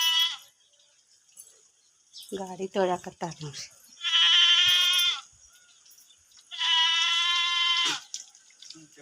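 A young goat kid bleats in two long, steady, high cries, with someone speaking between them and running water in the background.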